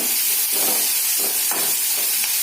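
Onions, chillies and curry leaves fry in a pan with a steady, loud sizzle and hiss and a few soft stirring scrapes, with no voices.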